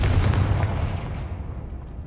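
A Confringo spell explosion in the video game Hogwarts Legacy, a heavy, close boom with a rumbling low burst that fades over about two seconds.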